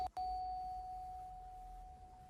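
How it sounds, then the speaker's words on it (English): A front-door doorbell at a home chimes once with a clear, sustained electronic tone that slowly fades, heard from inside the house with no talking. "So the guys ring the doorbell,"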